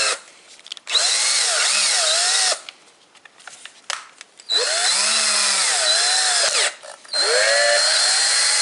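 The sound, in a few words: drill lapping valve on Ford diesel engine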